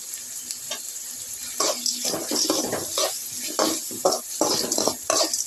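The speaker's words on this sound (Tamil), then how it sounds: "இது கூட தக்காளியும் இட்லியும் போட்டு வதக்கணும்" Onions and tomatoes sautéing in a pan with a spoon stirring and scraping in irregular bursts over a soft sizzle, moderately close, no talking.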